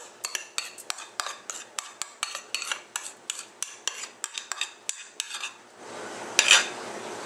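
Meringue scraped and spread with a utensil onto an aluminum foil baking dish, a steady run of sharp, regular clinks and taps close up, ending in a brief rustle of crinkling foil; no one speaks.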